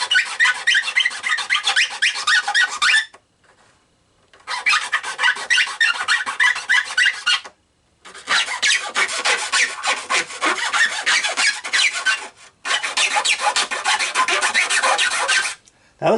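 Sandpaper rasping back and forth over the fiberglass hull of a Deans Marine SS Mellenie model boat kit, in four long sustained bursts separated by brief pauses, close and fairly loud with a gritty rhythmic scrape.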